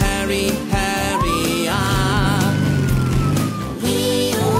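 A wailing siren glides up and then holds a long, slowly falling tone, layered over a dense, busy backdrop of loud harmonic sound.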